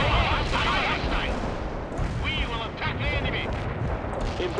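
Light artillery fire in the World in Conflict: Soviet Assault farmland battle, dense continuous booming and crackling barrage with scattered impacts, loud throughout, with radio-style voices talking over the din.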